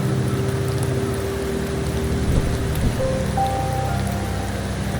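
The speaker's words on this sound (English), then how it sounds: "The rains in Septimont never seem eager to leave this season." Steady rain falls in the video game Wuthering Waves, a continuous even hiss of drops on surfaces with a low hum beneath and faint tonal game sounds near the end.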